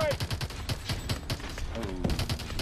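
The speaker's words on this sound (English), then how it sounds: "Taking fire from the right." Rapid gunfire rattles through a battle in the video game Call of Duty: Advanced Warfare, dense overlapping bursts and shots at close range, with a voice speaking in the mix.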